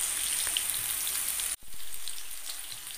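Kochur loti, taro stolons, frying in a pan with a steady hiss of sizzling. The sizzle drops out for a moment midway, as if the lid is lifted, then comes back.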